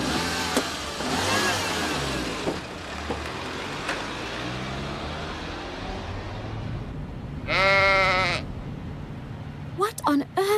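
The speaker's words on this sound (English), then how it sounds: "Was that a sheep, Dad?" A single sheep bleats loudly and close by with a wavering, harmonic cry, following a passage of talk over a running car engine and revving; voices speak before it and a couple of sharp knocks come after.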